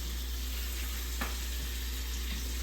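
Onion dropped into a hot frying pan for bacon cheeseburgers sizzles steadily, a close, even hiss with one brief sharper burst partway through.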